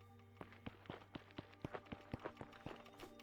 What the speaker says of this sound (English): I'm thinking of, like, the footstep sounds